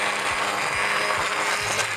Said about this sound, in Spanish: vamos a pasar a triturar la naranja con ayuda de una batidora